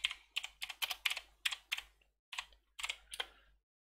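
Computer keyboard keys clatter as commands are typed into a terminal while setting up a Python virtual environment, in two quick bursts of close, crisp keystrokes separated by a short pause, with no voice present.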